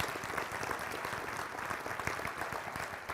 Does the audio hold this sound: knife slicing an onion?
no